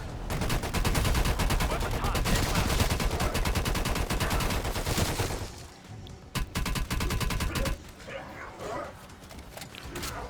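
Rapid sustained automatic fire from an HK21 machine gun in the game Cold War Zombies, loud dense bursts for several seconds, then a short pause and more shorter bursts, with dog-like barks and yips mixed in.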